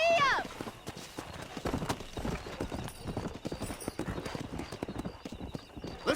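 Horse galloping in Red Dead Redemption, with rhythmic hoofbeats that start right after a short whinny and continue steadily, while voices talk over the riding.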